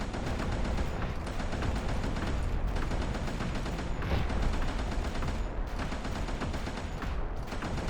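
In the game Codename: Ocean Keeper, a machine gun firing explosive bullets roars in a relentless, dense barrage of rapid shots and blasts. The fire is loud and continuous for the whole stretch, with no speech.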